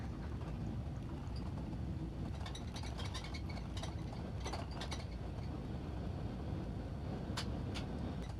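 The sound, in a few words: E170 reverse thrust on landing in X-Plane 11 video game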